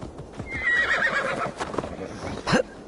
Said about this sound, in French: Poney.